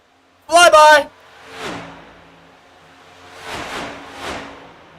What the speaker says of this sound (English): One of the best sounds in NASCAR. With really any car is these flybys.